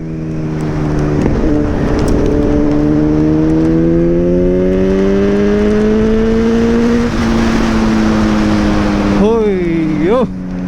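A powerful vehicle engine roars loud and close, its pitch climbing steadily as it revs, then dipping and surging briefly near the end, with excited voices over it.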